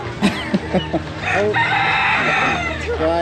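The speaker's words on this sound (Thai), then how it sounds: "อันนี้ไก่หัวจุก" A crested chicken at an agricultural fair gives a few short, close clucks, then breaks into a loud, drawn-out crow.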